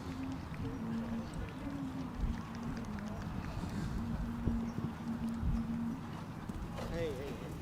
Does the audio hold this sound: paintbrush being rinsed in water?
no